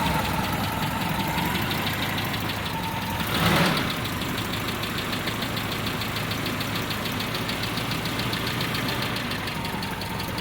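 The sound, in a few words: carbureted Toyota MR2 engine idling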